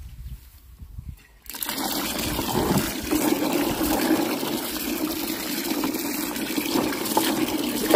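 Water splashing and running while jujube fruit is soaked and washed, a sudden continuous gushing and trickling that starts after a brief quieter moment and stays fairly close and steady.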